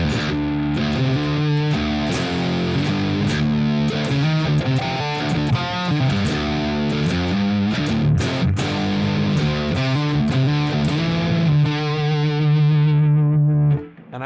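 Distorted electric guitar through an older Marshall-style amp tone with 25-watt Greenback speakers in a 4x12 cabinet plays loud riffs with chords and single notes, ringing out alone before cutting off at the end.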